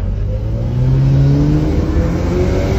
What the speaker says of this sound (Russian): такой маленький моторчик у него. Это 4 цилиндра, что ли?